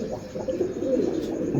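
A pet pigeon, a Teddy cross, coos in soft low murmurs that rise and fall over a steady background hum.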